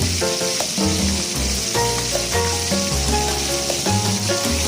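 Chicken deep-frying while hot oil is spooned over it to turn it golden brown, giving a dense, continuous crackling sizzle that sits loud beneath steady background music, with no voices.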